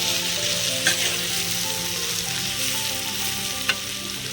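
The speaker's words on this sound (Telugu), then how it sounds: "మళ్ళీ ఒక 2 నిమిషాలు సిమ్లోనే ఇట్లా ఫ్రై అవ్వనిద్దాం." Ivy gourd (dondakaya) fries on a low flame in a pan, giving a dense, continuous close sizzle with a couple of faint utensil clicks and no speech.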